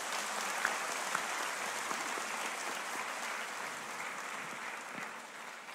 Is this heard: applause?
yes